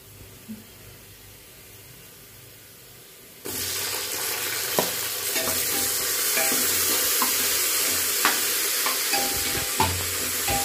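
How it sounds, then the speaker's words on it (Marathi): After a quiet start, spices and tomato hit hot oil for Nilanga rice and set off a loud, steady sizzle. Scattered spoon clinks and scraping stirs sound over it, and no one speaks. "हे पूर्ण आपल्याला चांगले परतून घ्यायचे आहे तेलात।"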